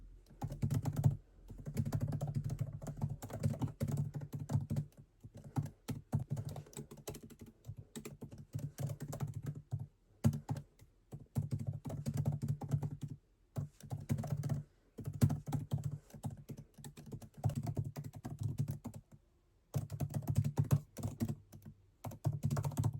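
Steady computer keyboard typing during a writing session, quick irregular keystrokes in bursts separated by short pauses, close and clear with no talking.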